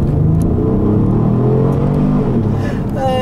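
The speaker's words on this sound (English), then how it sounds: "I'll do an acceleration here." A 3.5 liter EcoBoost SUV accelerates in a quick pull with traffic around, a loud, steady engine drone and rising whir heard from inside the vehicle without talk.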